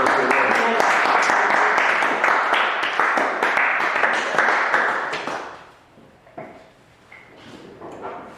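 A church congregation applauds at length, the steady clapping loud and close, then breaks off into scattered knocks and a quieter room.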